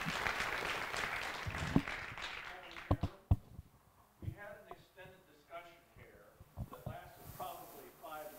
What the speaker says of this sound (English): I would love if everybody could please give them a round of applause